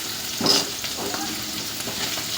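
Masala sizzles and crackles in hot oil for a black-eyed pea and dry fish curry, with a bright, steady frying hiss and a slightly louder burst early on, close up, with no talking.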